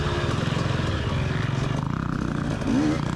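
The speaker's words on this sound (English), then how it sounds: "you can tell by listening to the bike" A 450 or 350 dirt bike engine revving at a hare scramble race, a continuous buzzing drone that rises in pitch near the end, heard fairly loud and without talk.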